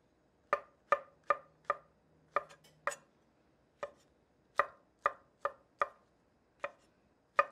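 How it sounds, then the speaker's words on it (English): Knife slicing through mushrooms on a cutting board, a series of crisp, distinct cuts in an uneven rhythm, close and clear against near silence. "start slicing up the mushrooms"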